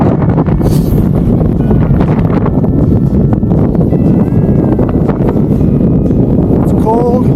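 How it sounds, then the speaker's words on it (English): Strong wind roars steadily over an exposed ridge in Arches National Park, buffeting the microphone with a constant heavy rumble, while voices talk faintly beneath it. "this wind is whipping"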